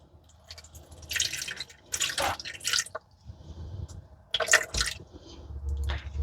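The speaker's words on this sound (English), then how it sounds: "So now I'm going to add 125 grams of water." Water pours from a tap into a bowl sitting on a kitchen scale in a home kitchen, in several uneven splashing bursts with short pauses between them, close and fairly quiet.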